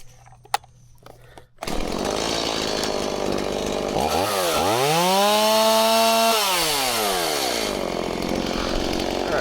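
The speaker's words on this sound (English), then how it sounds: "Let's see how the new chain cuts compared to my old grinded on chain." A chainsaw fitted with a new chain starts with a short pull and roars loudly up close, its pitch dropping and bogging as it bites into wood, then holding steady through the cut before revving back up.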